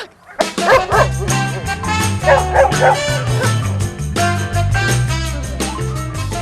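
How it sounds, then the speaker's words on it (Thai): Fierce guard dogs on security patrol bark loudly and repeatedly, with yips and whimpers mixed into a dense, continuous barrage close by. "เราจะเห็นมีสุนัขนะคะ ต้อนรับเราอยู่ค่ะ ซึ่งแต่ละตัวนี่มีลักษณะที่ดุมากเลยนะคะ แล้วก็พร้อมที่จะกัดเราอยู่ตลอดเวลาค่ะ"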